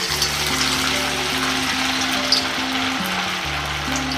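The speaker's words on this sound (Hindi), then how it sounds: "अब इसको हम डीप फ्राई करने के लिए छोड़ेंगे तेल में।" Sabudana vada deep frying in hot oil, a steady broadband sizzle running continuously under a low electrical hum, with no voices.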